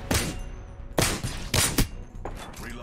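Gunfire in Apex Legends: several sharp, loud shots and short bursts ring out up close, spaced irregularly with brief gaps between them.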